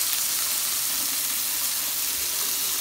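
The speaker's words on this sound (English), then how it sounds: "There's the first batch of our shrimp sizzling up, getting all done up for us." A first batch of shrimp sizzles beside steak on a home hibachi grill, giving a constant, close hissing fry that stays even throughout, with nobody talking.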